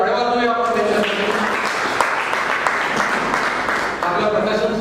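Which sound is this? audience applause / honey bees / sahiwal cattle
audience applause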